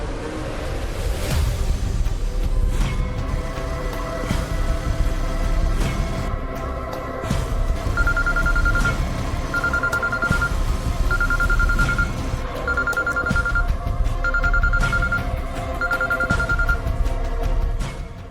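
A phone rings in a repeating pattern of short electronic tone bursts, about six rings in a row over a steady busy background, loud and close with no talk.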